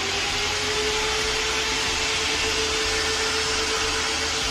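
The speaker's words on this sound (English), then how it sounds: "Those are portable winches from the roof here." Motorized remote-controlled portable winches hoist a party tent roof, giving off a steady, continuous mechanical whir with a faint tonal hum, fairly loud and unbroken throughout, no voices.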